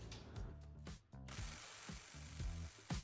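A small Milwaukee power tool works on a wheel nut during a tire change, giving bursts of rapid, buzzing impact rattle broken by brief pauses, close and fairly loud.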